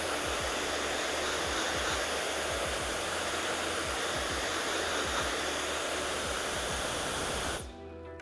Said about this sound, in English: with your blow dryer